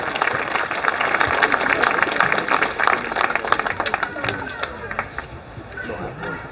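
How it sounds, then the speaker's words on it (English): An audience at a community meeting in Crowborough claps steadily and loudly, with scattered voices mixed in, before the applause tapers off. "So give me some applause, guys, because he's come down just for the community today."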